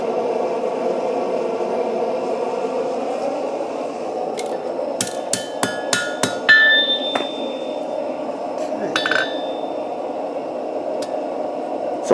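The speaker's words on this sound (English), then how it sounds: "Now I'll use a shearing blow to pop that loose." At an anvil, a bladesmith uses a hammer's shearing blow on a blade, giving a short run of sharp ringing metallic strikes with a lingering tone, loud and close over steady broadband noise from a forge or machinery.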